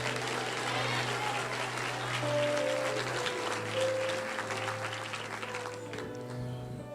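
A church congregation claps together in steady, full applause that holds for several seconds and eases slightly toward the end, with a sustained low hum underneath and faint voices mixed in.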